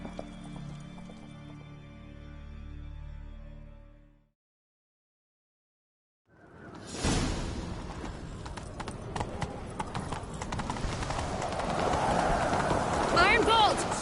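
Horses gallop in pursuit in a video game, a rush of rapid hoofbeats starting after a short silence and building louder, mixed with game sound and voices.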